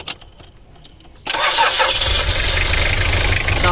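A used diesel van engine cranks faintly for about a second, then catches with a sudden roar and settles into a loud, steady, clattering idle close by.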